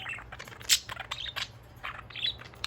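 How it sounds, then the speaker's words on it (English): A pet budgie chirps and squawks close by, a string of short bright tweets and scratchy calls spread unevenly across a quiet room. "Cute bird."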